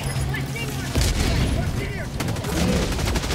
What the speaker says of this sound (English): I'm gonna call in rocket pods on it.